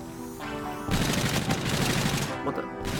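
Rapid automatic gunfire from the video game Infinite Warfare rattles in dense bursts over a background music tone, loud and close, pausing briefly before starting again.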